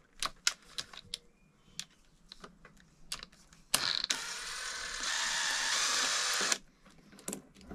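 A ratchet wrench turns a bolt on a Mercury/Mariner 15 hp EFI four-stroke outboard, with scattered metallic clicks followed by a few seconds of steady, close ratcheting.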